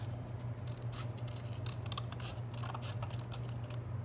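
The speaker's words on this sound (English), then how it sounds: "your next step is gonna be to cut it out and simply cutting right along our lines" Scissors snip steadily through paper, cutting out a stylized fairy figure for mixed media art, with rapid close crisp cuts over a low steady hum.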